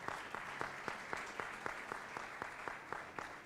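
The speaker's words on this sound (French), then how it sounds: "Acclamez pour mon interprète pour l'encourager" A church congregation claps steadily for an interpreter, an even, rhythmic applause from a sizeable crowd, a little distant, with faint voices underneath.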